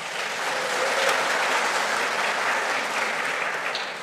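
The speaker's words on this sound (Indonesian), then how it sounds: "Kita tepuk tangan dulu, tidak apa-apa" A church congregation claps together during a Sunday service celebrating the men's fellowship, a steady dense wash of applause filling the room at even loudness throughout, with no voices standing out.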